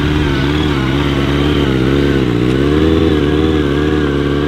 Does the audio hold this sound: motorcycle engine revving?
yes